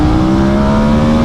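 A KTM 1290 Super Adventure motorcycle pulls hard in third gear to overtake on an Essex country road, its engine holding a loud, steady tone that climbs slightly through a brief burst.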